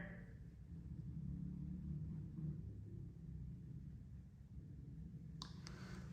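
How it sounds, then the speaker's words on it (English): Low, steady rumble of cars passing outside a building, a muffled, continuous traffic drone heard from indoors with a couple of faint clicks near the end. "I hear cars outside"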